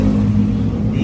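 A vehicle with a custom fabricated, non-plug-and-play exhaust revs briefly, a steady, loud, close low rumble held for about a second.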